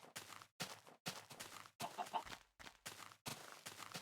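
A chicken in a video game clucks in a steady series of short bursts, each call separated by brief silences, fairly loud and alone with no talking.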